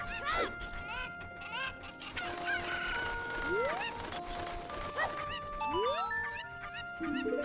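Cuccos crowing and clucking in Kakariko Village in The Legend of Zelda: Ocarina of Time, several bright synthetic rooster calls that rise and fall in quick succession over a busy game soundscape.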